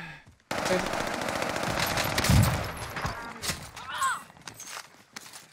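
Automatic gunfire in Warzone rattles in rapid bursts, loud and close. It starts abruptly after a brief quiet, with some scattered sharper shots and faint talk mixed in.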